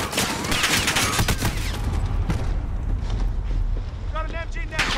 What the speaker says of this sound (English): Got an MG now. She's dug in!